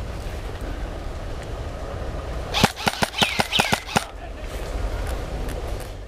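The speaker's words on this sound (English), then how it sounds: "Shooting these two guys forced me to change position" Airsoft gun fired in a burst of about eight sharp, rapid shots during an outdoor airsoft game, close and loud over steady ambient background noise.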